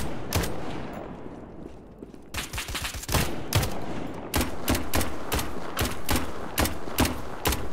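Rapid gunfire from an Unreal Engine 4 video game crackles in dense bursts of sharp shots, with a quieter pause before heavy, rhythmic volleys resume, loud and with no speech.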